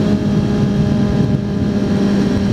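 A 2004 Ford Mustang V6 with straight-piped exhaust idles with a steady, deep rumble, loud and close, with a slight dip partway through.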